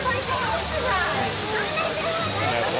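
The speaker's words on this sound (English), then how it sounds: "And that waterfall." Steady rushing waterfall at an Epcot theme park attraction, a continuous broadband roar with splashing texture, fairly close and constant throughout, with faint voices blended in.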